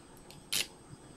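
A single crisp snip of scissors cutting a small square of material for a homemade crochet hook handle, close and brief in an otherwise quiet room.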